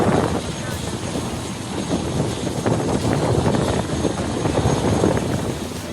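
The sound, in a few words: helicopter flying at Nelong helipad rescue operation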